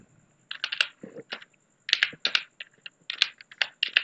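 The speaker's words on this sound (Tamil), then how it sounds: "பேசிக்ஸ்ன்னு டைப் பண்ணிக்கிறேன்." Fingers tapping on a computer keyboard while entering a heading in Microsoft Word, with quick bursts of crisp, close keystrokes separated by short pauses.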